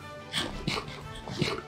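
A dog whimpers in the video game Minecraft, giving about three short, high, whiny cries spaced roughly evenly over the moment, fairly close and clear.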